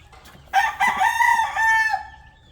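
A Rhode Island rooster crowing once, close and loud, a drawn-out call of about one and a half seconds with faint rustling around it.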